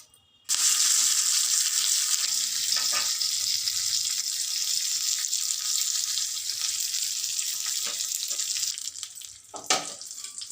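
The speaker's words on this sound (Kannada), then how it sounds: "ಈಗ ಒಂದು ಒಗ್ಗರಣೆ ಕೊಟ್ಬಿಡ್ತೀನಿ" A tempering of spices hits hot oil with a sudden loud sizzle that holds as a steady hiss for several seconds, close by, fading slightly with a few crackles toward the end.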